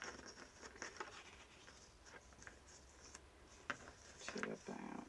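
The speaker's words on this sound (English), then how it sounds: "get my scissors, just chop that down" Scissors cut through a length of ribbon at a craft table. A few crisp, quiet snips land near the end, amid light rustling and handling noise.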